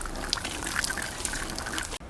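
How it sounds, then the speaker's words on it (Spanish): Water sprinkling from a rain-style watering can onto freshly sown pepper seedlings in soil, a continuous close, soft gushing patter that cuts off abruptly near the end, with no voices. "con una regadera a forma de agua de lluvia, ¿vale? Le damos un primer riego"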